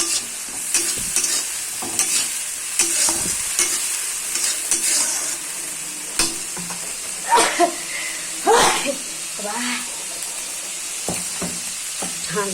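Vegetables, beans and potato, fry in a pan with tomato and fried fish, giving a close sizzling hiss broken by repeated scraping stirs and clinks of a spatula in an uneven rhythm.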